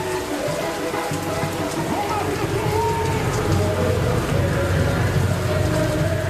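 Heavy rain pours steadily during the Rio Carnaval 2007 parade, a dense continuous hiss with low rumbling crowd and drum noise underneath, while a narrator talks over it.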